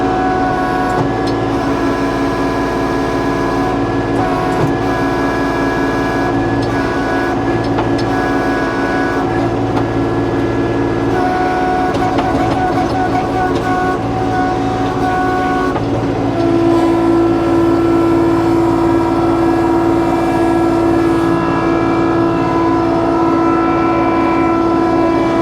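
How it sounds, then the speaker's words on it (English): Woodland Mills WC68 wood chipper chewing through leafy branches, a loud, steady mechanical roar with a strong hum and constant rattling grind that shifts slightly partway through, running alone with no talking. "This is probably a little leafier than what you should probably be putting through the chipper"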